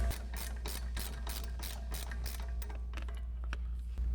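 A ratchet clicking out a brake caliper bolt on a 2015-2023 Ford Mustang: a rapid, even run of close metallic clicks over a low steady hum, thinning near the end.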